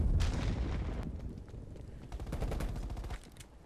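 AK-74U automatic gunfire in Call of Duty Black Ops Cold War, rapid bursts of loud close shots with booming low-end punch, a brief lull near the middle, then sustained firing cutting off at the end.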